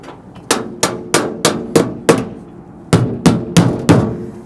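A hammer tacks fiber cement siding to a house wall with about ten sharp, evenly spaced strikes, a run of six, a short pause, then four more, close and clear.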